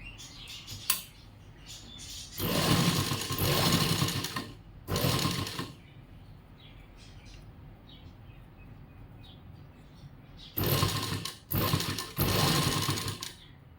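A sewing machine stitches along folded blouse fabric in several loud, rapid bursts, with quiet pauses between runs and no talking.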